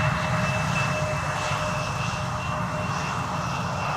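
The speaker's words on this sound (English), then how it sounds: "KLM flight 1788 is arriving from Hanover, Embraer 190" A KLM Embraer 190 jet arrives at Schiphol airport, its engines a loud, steady roar with a faint high whine that holds evenly throughout and has no talk over it.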